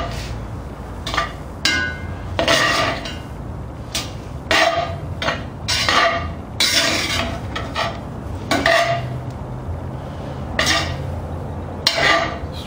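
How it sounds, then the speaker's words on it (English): Mexican rice with lime stirred in a cast-iron Dutch oven, a continuous run of rhythmic scraping strokes of a spoon against the pot, close and steady throughout with repeated loud rasping pulls. "give that a stir"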